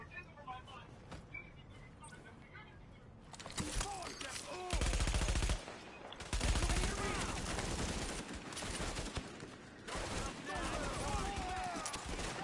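Machine gun fire in the video game The Division, bursts of rapid automatic shots coming in loud spells after a quieter opening, under intermittent talking.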